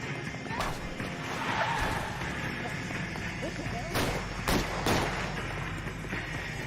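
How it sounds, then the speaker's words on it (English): Gunfire in the video game L.A. Noire: a few sharp, separated shots crack out near the end over a steady low background murmur, moderately loud and fairly close. "Should I shoot him? I mean, he's shooting at me."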